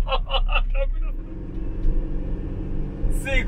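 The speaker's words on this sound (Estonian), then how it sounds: "Autod siin mäe otsa ronivad lihtsalt." Cars climbing a steep Swiss mountain road, a steady low engine rumble throughout with brief speech-like bursts at the start and near the end.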